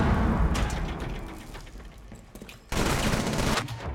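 Rapid bursts of gunfire in the tactical shooter Rainbow Six Siege, ranked match, crackling in dense loud volleys with a brief lull before a renewed heavy burst.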